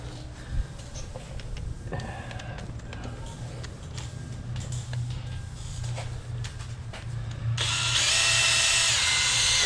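Power drill with a small buffing pad polishing a headlight, a low, steady motor whir with light clicks and rubbing throughout, rising into a louder, brighter whine in the last couple of seconds.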